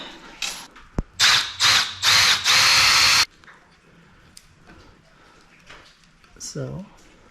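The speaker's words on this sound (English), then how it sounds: "Drill my hole, and that's where my eye screw is going to go" A power drill whirs in several short bursts, then one longer sustained run, drilling pilot holes for eye screws in a garage ceiling, followed by quiet rustling and a brief voice near the end.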